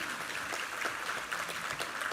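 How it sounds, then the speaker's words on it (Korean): A Korean Sunday worship congregation applauds, a faint, steady wash of clapping that sounds distant and soft throughout, with no voices on top. "우리 하나님께 감사와 영광의 박수 올려드리겠습니다"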